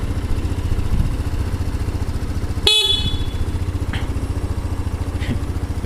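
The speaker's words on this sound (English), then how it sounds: "let's give the horn a honk." A Honda SH150i scooter's horn gives a single short, loud honk over the steady idle of its engine, close by, with a couple of faint clicks afterwards.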